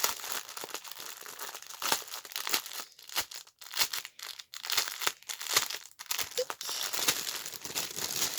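A Shein parcel being unwrapped, plastic packaging crinkling and rustling close up in irregular bursts with brief pauses between handling.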